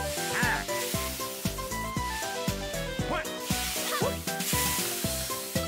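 Steak sizzles in a Mario Party video game minigame, a steady hiss over rhythmic, bouncy game music, with a voice talking over it.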